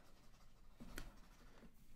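A pen writes out a math proof in quiet, soft scratching strokes with a single sharper tap partway through, faint and close with no talk.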